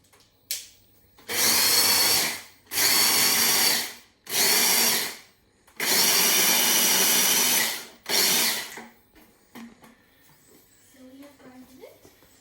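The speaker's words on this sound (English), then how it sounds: "At the moment, we've just chopped up some red chili, which we are going to grind up a little." Chopped red chili being ground for a condiment with an electric grinder: five loud whirring bursts of a few seconds each, separated by brief pauses, then quiet background with faint sounds.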